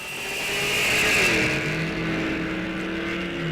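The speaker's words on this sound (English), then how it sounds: "Cool sounding exhaust on that stock" A 2017 Chevrolet SS stock race car on a drag strip roars past under full throttle, its exhaust a loud, steady, raspy blare that swells and then holds as the car pulls away, with no talk over it.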